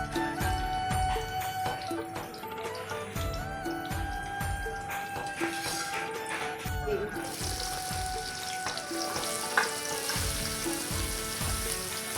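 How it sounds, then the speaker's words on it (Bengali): Capsicum strips fry in a pan for fried rice, a soft hiss under regular clanks and scrapes of a utensil, and the sizzle grows louder in the last few seconds, no talk. "ভেজে নিব ক্যাপসিকাম"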